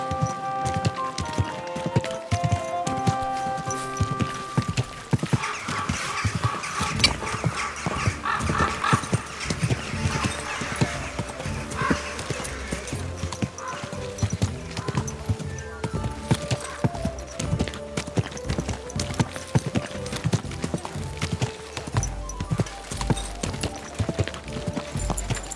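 Horse hooves clip-clopping in the video game Kingdom Come Deliverance II, a steady rhythmic trot with game music and ambient sounds beneath, fairly close and continuous throughout.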